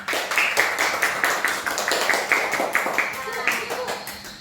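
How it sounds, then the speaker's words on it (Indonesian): Classroom students clap together for a group that made a headpiece from coconut leaves, a steady run of close, dense hand claps with voices mixed in. "tepuk tangan dulu untuk kelompok anggrek"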